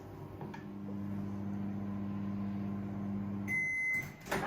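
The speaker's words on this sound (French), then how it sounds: "on va mettre le couvercle et on va cuire ça 12 minutes au micro-ondes." A microwave oven cooking broccoli in a covered dish hums steadily with a low, even drone, then stops with a click and a series of high beeps near the end.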